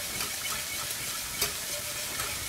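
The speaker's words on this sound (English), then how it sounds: "looks like it's sauteing nicely?" Chicken and green chilies sauté in a pan with a dense, even sizzle and a soft stirring scrape partway through, close and continuous with no voices.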